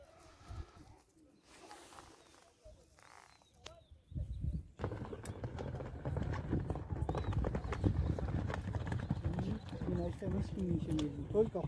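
A calm nine-year-old horse named Börü, tied in place, shifts its hooves with clopping steps that grow busier and louder partway through, while voices talk over the scene.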